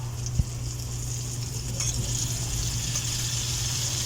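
Flour-coated food fries in hot oil with a steady, close sizzle and crackle that holds throughout, plus a steady low hum and one sharp knock early on.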